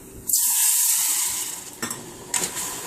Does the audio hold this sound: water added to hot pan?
yes